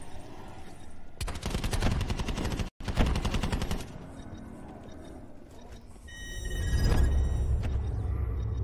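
Rapid automatic gunfire in the Call of Duty Black Ops 4 Blackout battle royale, two loud sustained bursts with a brief break between them, followed by engine rumble and electronic beeps.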